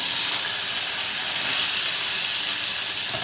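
Paneer frying in a pan gives a loud, dense, continuous hiss and sizzle with no breaks, heard up close and alone without talk.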